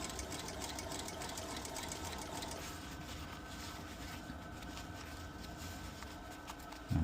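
A sewing machine stitches a bucket hat seam, running steadily and close for the whole stretch with a brief louder bump at the very end.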